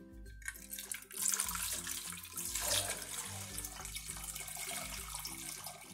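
Water is poured from a tap into a pressure cooker pot over a can of condensed milk, a steady splashing rush heard over background music.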